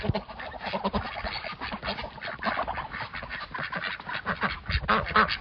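Ducks quack loudly and continuously while feeding on willow branches, a dense, overlapping chorus of close nasal calls with busy, steady rhythm and no talking.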